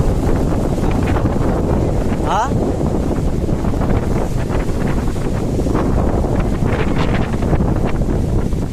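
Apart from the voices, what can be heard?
strong storm wind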